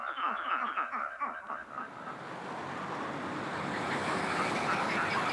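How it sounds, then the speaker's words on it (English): Steady road traffic roar at about 75 decibels, like a fairly busy highway beside a pond, takes over after a brief stretch of tree frog calls and continues as a dense, constant wash. "the noise of road traffic at 75 decibels, as if the pond was beside a fairly busy highway"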